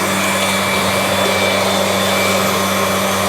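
An air compressor at a level process control station runs steadily and loudly, putting out about 60 psi with a constant droning hum and a broad airy hiss, with no breaks.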